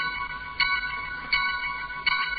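A bell is struck three times at even intervals, each strike ringing bright and clear before the next, with no talk.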